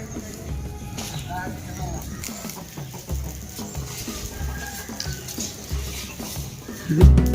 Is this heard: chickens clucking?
yes